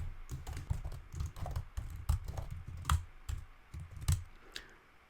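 Close, crisp keystrokes on a computer keyboard clatter in quick irregular bursts with short pauses between runs while code is written, with no voices.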